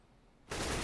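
A single loud burst of gunfire from the first-person shooter Counter-Strike on the map Cache erupts abruptly after a quiet stretch and holds to the end of the short clip.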